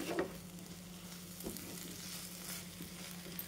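Paneer bhurji is stirred in a frying pan, with a quiet, steady sizzle and a few soft scrapes and knocks of the spoon against the pan, no one speaking.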